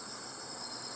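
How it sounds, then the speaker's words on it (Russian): Crickets chirp at night, a steady high trill filling the background beside a road, constant and fairly faint with no voices. "Сзади вот сверчки поют"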